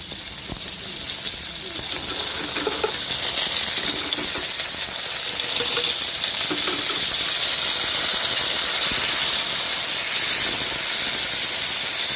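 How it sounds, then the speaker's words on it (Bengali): Chopped carrots and bean pieces fry in hot oil in a pan, giving a steady, loud, continuous sizzling hiss that runs throughout with no pause. "দেখতে পাচ্ছ পেঁপেটা ভাজা হয়ে গেছে একই তেলে দিয়ে দিলাম গাজর"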